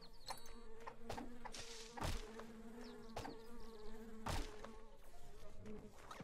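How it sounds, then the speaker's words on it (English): Bees buzz continuously in the video game Secrets of Grindea, a dense insect drone interrupted by a few sharp thumping hits. "There's some bees down here. Oh, I hear them."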